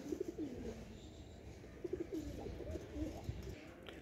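Pigeons at a loft in Lucknow give soft, low cooing calls in short bursts, quiet and close over a faint background hum.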